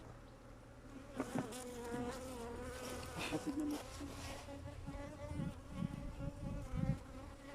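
A dense, continuous buzzing of many honeybees close around an open hive, with a few brief spoken words and small bumps over the drone.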